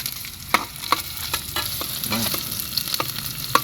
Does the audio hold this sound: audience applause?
no